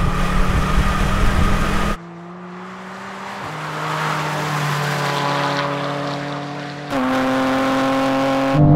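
A BMW XM Label Red and a BMW M4 CSL launch in a drag race with wheelspin, loud engine roar rising through gear changes, a sharp shift in pitch at each change, close and without talk.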